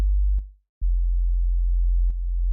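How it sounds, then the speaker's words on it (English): A very low sine wave sub bass synth tone, a deep pure hum that cuts off briefly with soft clicks, then resumes steadily, alone and loud. "It's not really a preset, it's just a sine wave that's played really low"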